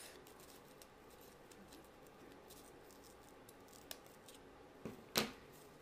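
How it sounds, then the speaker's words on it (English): Scissors trimming excess ribbon while making a two-loop bow, faint light handling rustles and then a single sharp, close snip near the end. "Hold it there, and then you can trim the excess off."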